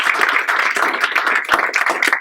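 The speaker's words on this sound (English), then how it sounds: "let's give a round of applause" An audience at a public forum on California ballot initiatives breaks into a sustained round of applause, dense, steady clapping filling the whole stretch without pause.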